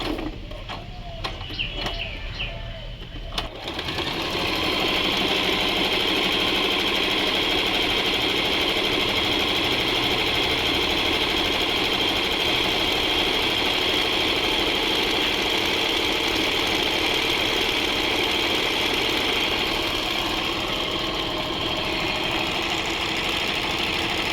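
An Usha Janome Stitch Magic sewing machine runs steadily at half speed on a dense design, a continuous whirring mechanical hum with rapid needle clatter after a few seconds of quieter handling clicks.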